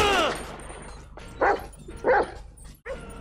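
Dogs bark in GTA 5 in a few separate loud, close yelps and woofs, with a short whine at the start and quieter game background between the barks.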